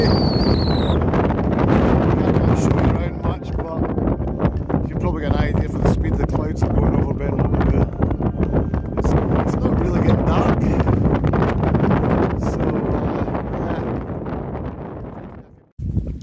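Strong wind gusts roar continuously around a tent pitched at a mountain lochan wild camp, buffeting the microphone close and loud before dying away abruptly near the end, with a person talking underneath.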